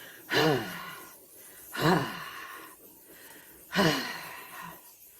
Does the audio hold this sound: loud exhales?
yes